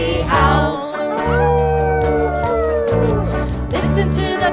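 A singer's voice imitates a coyote's howl in a congregational church song, giving long sliding wails over steady sustained instrumental chords, loud and close.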